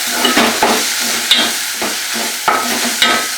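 Homemade spices, including red chili powder, turmeric, garam masala and peanut powder, are stirred and mixed in a pan for a crab curry: rhythmic close scraping strokes over a light sizzle.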